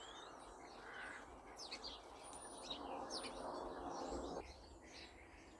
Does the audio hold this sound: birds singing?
yes